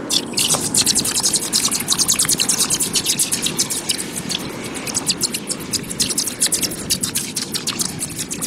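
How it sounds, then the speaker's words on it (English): Molten aluminum from an open pit forge is poured into a pot of water, giving a loud, continuous hissing boil with rapid crackling pops and bursts throughout. "I'm just going to pour it into a pot of water there to let it solidify"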